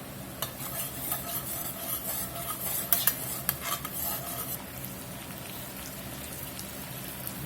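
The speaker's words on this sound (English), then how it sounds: "start dropping these collard greens in and get them tossed up here a little bit in this garlic and bacon fat" Collard greens are tossed in a pan of garlic and bacon fat, sizzling steadily with a brief cluster of clattering stirs midway, at a moderate level and with no talking.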